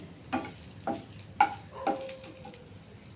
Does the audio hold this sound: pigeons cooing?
no